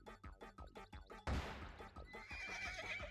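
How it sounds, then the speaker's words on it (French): A horned horse from the Miitopia video game whinnies in a short synthesized neigh that rises over light game music, followed by a sudden loud crash-like hit and continued busy background music. "Un petit cheval un peu réaliste avec une corne en plus."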